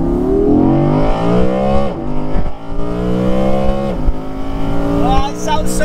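An Audi sports car engine revs hard through several rising gear pulls, each climb breaking off at a shift before building again, loud and close.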